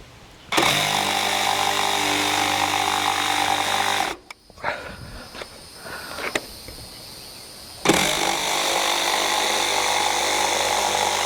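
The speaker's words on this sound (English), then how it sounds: "I'm just going to use the jigsaw and follow the penciled line that I put on here earlier on." A jigsaw cuts wood along a penciled line for a four-rail fence, loud and close, buzzing steadily for several seconds, stopping briefly amid handling noises, then starting up again.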